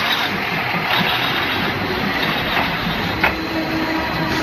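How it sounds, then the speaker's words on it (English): A train rolls slowly through a Bangkok street market laid along the railway tracks, giving a steady rumbling wash of rail and engine noise with occasional clacks, loud and close, with no voices. "Don't worry, I'm not just showing you a train."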